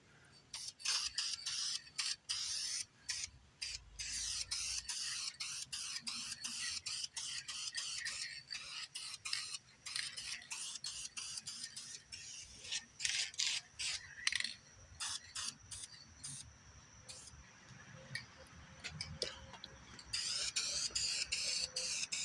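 Aerosol spray paint is applied to a Johnson outboard engine in short hissing bursts. The spray is close and comes in an irregular rhythm of quick bursts and longer sprays with brief gaps.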